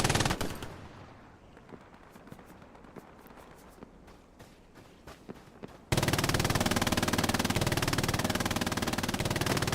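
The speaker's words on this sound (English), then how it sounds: "there's a lot of MG42s, people" Bursts of MG42 machine gun fire crackle in rapid staccato strings during a Hell Let Loose battle at El Alamein, then give way to a dense, continuous roar of sustained automatic fire.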